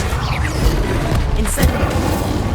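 An Incendio fire spell in Hogwarts Legacy crackles out as a swift fiery whoosh and thudding burst, loud and close over a dense rumbling background, with a brief second flare shortly after.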